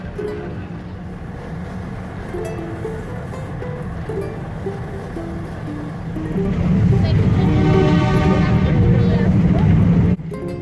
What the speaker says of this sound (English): First train ride of the holiday.